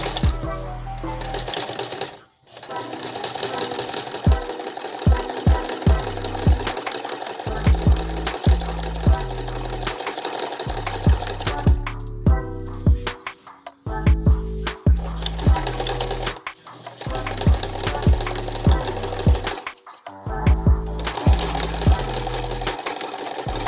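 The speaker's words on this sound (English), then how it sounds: "Last step is to make buttonholes and sew the buttons onto your dress." Sewing machine stitching buttonholes on a dress, running in short rhythmic bursts of rapid mechanical clatter separated by brief pauses, close and steady throughout.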